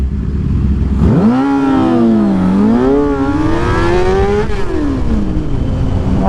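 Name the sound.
motorcycles racing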